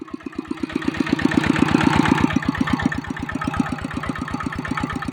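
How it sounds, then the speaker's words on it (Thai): A single-cylinder ET95 engine on a small frame drives a water pump, chugging in a fast, steady, loud thumping rhythm close by with no talking. "มันเครื่องปั๊มดีครับ ดึงน้ำนะครับ"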